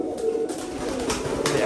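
A female pigeon coos in a soft, low rhythmic burble, close by and steady for under two seconds, with faint room noise behind it and no talking.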